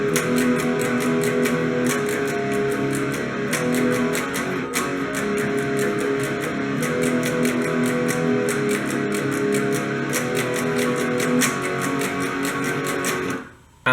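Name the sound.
electric guitar playing a song chorus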